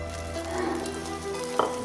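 Mushrooms, button mushrooms cooked with green peas, sizzle steadily in a hot pan just after going in, a continuous close frying hiss with a brief sharper crackle near the end.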